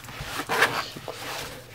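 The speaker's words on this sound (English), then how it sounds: "Zippers still work fabulous." A zipper is pulled on a small Maxpedition mini pocket organizer in one quick rasping sweep up close, followed by faint handling noise.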